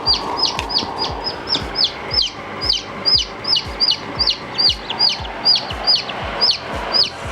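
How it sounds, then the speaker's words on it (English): Many small, high-pitched peeps from newly hatched chicks repeat rapidly in a steady chorus near an incubator, close by, with soft clucking from chickens underneath. "We have 2 other chickens that have already hatched."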